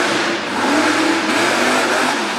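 Monster truck engine revs hard during a competition run in Brookville, Pennsylvania, a loud continuous roar that swells and holds, heard at a distance over open-air noise.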